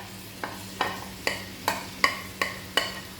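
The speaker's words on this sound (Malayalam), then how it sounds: "3 മിനിറ്റ് ഹൈ ഫ്ലെയിമിൽ വെച്ച് വഴറ്റിയതിന് ശേഷം നമുക്കിത് തട്ടി കൊടുക്കാം" Capsicum curry being sautéed in a pan over a high flame, with seven sharp stirring scrapes and clinks evenly spaced about every half second over a low steady hum and a faint sizzle.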